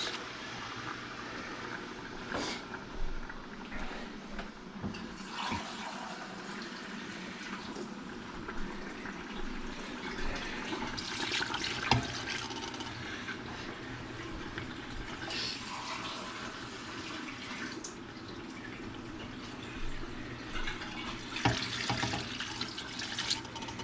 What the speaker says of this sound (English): And now we're just going to add water to that.